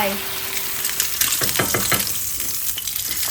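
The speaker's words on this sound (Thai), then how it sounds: "แล้วเดี๋ยวเราจะทอดไข่ดาว" An egg fries in a hot pan with a dense, crackling sizzle that runs steadily throughout. A few clattering knocks of a utensil or egg against the pan land in the middle, close and fairly loud.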